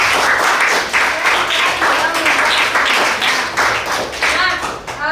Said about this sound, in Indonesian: Tepuk tangan dulu buat anak-anak Ibu ya